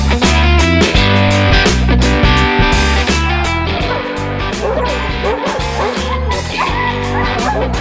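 Sled dogs at an Alaskan training camp bark and yip over and over beneath steady, loud music, their calls blending into a dense, continuous mix.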